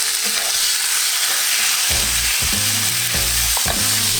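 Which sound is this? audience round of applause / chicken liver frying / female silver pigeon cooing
chicken liver frying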